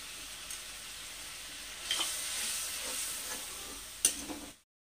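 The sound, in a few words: spice paste frying in mustard oil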